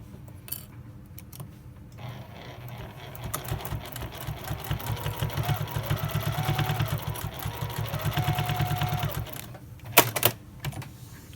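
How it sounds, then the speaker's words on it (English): A sewing machine stitches a quarter-inch seam along quilt pieces that are pinned or clipped together. It runs as a steady, rapid mechanical chatter for several seconds, then stops, followed by a few clicks and knocks. "then you sew a 1/4 inch seam down that side"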